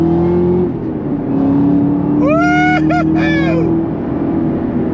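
A Chevrolet Camaro ZL1 1LE engine accelerates hard on throttle, its rising pitch climbing through quick gear changes in a loud, sustained run that sits up close under road noise.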